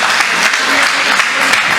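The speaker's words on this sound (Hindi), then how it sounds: "तो बजाओ सर एक बार जोर से ताली" Dense, loud applause from a crowd at a Hindi Holi poetry show, steady clapping throughout a short burst.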